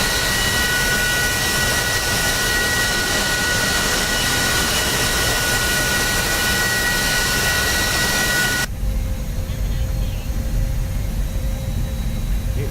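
Simulated airplane taxiing in the X-Plane 10 flight game: a loud, steady jet-engine whine and roar runs continuously, then drops abruptly to a lower, quieter hum near the end, with no voices.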